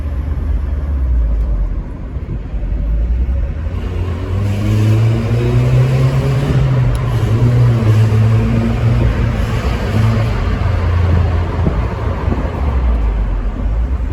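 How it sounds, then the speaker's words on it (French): A 1993 Mazda MX5's four-cylinder engine drones loudly and steadily while driving through a tunnel, its pitch rising and falling slightly with a continuous boomy road rumble underneath. "Alors je vous conseille d'écouter le fameux 4 cylindres."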